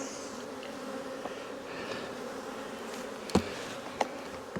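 Honey bees buzz at an open hive during a single brood chamber inspection in May, a steady close hum with a couple of brief clicks from frame handling.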